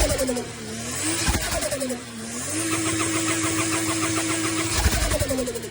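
Toyota 2JZ engine in a Lexus IS300 with a DIY turbo setup cranking and starting, the starter whirring before the engine catches and settles into a steady, loud idle with some revving, no talk.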